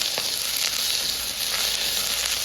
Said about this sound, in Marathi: त्यावर घालणार आहोत कांदा हा कांदा मात्र आपल्याला चांगला परतून घ्यायचा आहे